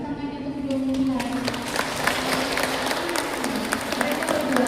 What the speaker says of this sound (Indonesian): berikan tepuk tangannya untuk kedua mempelai.